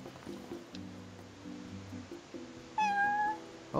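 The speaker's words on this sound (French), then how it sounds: "Oh, un chat." A cat in the video game Final Fantasy XV gives a single clear, drawn-out meow near the end, over a faint outdoor ambience with low steady tones beneath.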